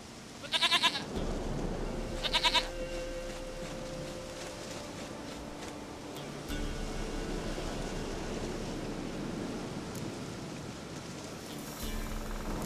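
A goat in The Witcher 3 bleats twice early on, short buzzy cries over a steady wash of outdoor game ambience and rustling noise that carries on to the end.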